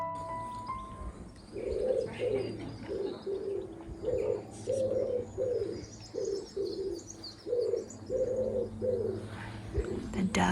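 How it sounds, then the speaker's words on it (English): Doves coo steadily in a garden beside a thatched cottage once home to gardeners, now National Trust property: a close, rhythmic series of soft repeated coos, with light bird chirps and a faint outdoor hum behind. "The doves are always cooing."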